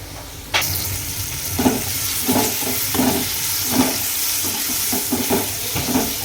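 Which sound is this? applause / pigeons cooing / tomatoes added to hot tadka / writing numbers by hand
tomatoes added to hot tadka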